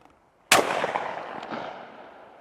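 A Pointer Field Tek 4 semi-automatic shotgun fires a single loud, sharp blast at clay targets outdoors, followed by a long fading echo across open ground.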